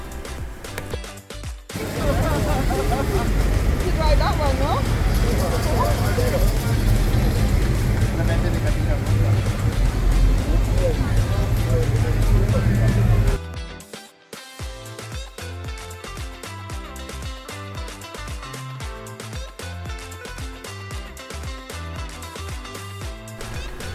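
Old roadster cars on a street tour in Cartagena's old city: a loud, close, sustained engine rumble roars past for about twelve seconds, then cuts to quieter background scenes with voices talking.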